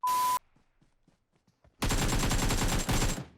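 Bursts of rapid automatic gunfire in a zombie boss fight in PUBG Mobile, a loud tone-marked burst at first, a quiet gap with faint clicks, then a sustained close, loud volley.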